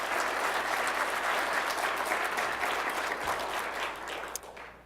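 Steady, dense applause from a conference audience fills the room for several seconds, loud and continuous before tapering slightly at the end.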